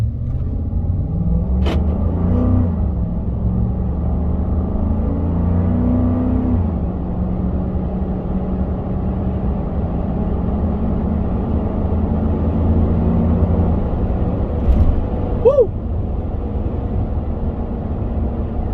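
A 2011 Ford F-150 with the 5.0 V8 engine runs in a steady deep rumble with mild swells in revs, close and loud throughout, with no talking.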